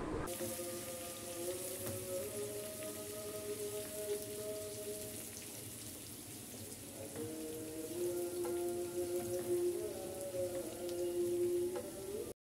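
Onions sizzle in hot oil for birista, a steady close hiss and crackle continuing throughout, with a faint tonal hum in the background and no talking.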